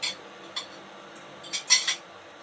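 Chicken with onion and garlic being stirred in a very hot, dry pan: a few sharp metallic scrapes and clinks of a utensil against the pan, spaced out and then clustered near the end.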